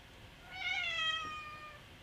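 A pet cat gives a single drawn-out meow, fairly close and clear, rising then falling over about a second in a quiet room with no talking.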